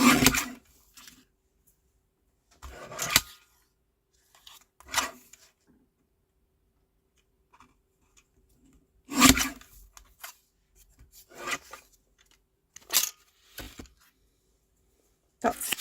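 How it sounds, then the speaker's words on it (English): Paper being trimmed for a stamped album during crafting, with sharp scattered cuts and rasping strokes in short bursts separated by quiet gaps, close by and without speech. "I'm just going to trim this down"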